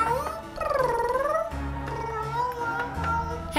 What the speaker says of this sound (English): Hey, it's a cat.